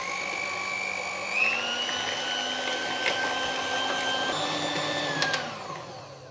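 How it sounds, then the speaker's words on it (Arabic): An electric hand mixer whirs steadily while beating sugar, eggs, vanilla and oil together. The motor hums at close range, and its pitch shifts slightly as the beaters move through the batter. "واول حاجه هعملها ان هضرب السكر والبيض والفانيليا والزيت مع بعض كويس جدا"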